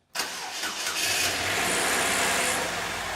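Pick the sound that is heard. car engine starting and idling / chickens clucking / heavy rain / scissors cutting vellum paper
car engine starting and idling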